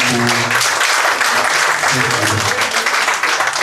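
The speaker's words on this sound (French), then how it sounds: "merci mesdames et messieurs, on applaudit encore très grandement" Applause breaks out from a conference audience at a sociology discussion event on managerial pluralism in Africa, loud and continuous, with a voice speaking over the clapping.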